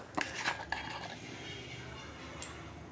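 A spoon clinks against a pot as vinegar is added to boiling milk to split it into chhena for rasgulla: a few sharp metallic taps close together at the start, another one later, over a low simmering hum.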